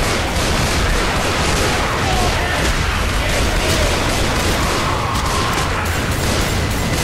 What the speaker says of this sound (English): I had to use that pipe bomb to save myself.